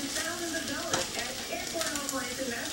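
Onions fry in a pan for garlicky cheesy cauliflower, a soft continuous sizzle with occasional stirring close by.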